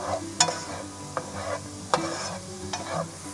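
Onions and garlic softening in a pan before ground beef goes in, a low sizzle broken by several sharp spoon clacks and scrapes against the pan at uneven intervals, no voices.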